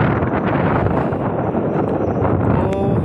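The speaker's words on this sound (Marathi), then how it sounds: "हे पहा कसला मोठा वारा सुटला इथं" Strong wind roars steadily across the microphone on the heights of Torna Fort, a hill fort in fog, with constant loud buffeting throughout.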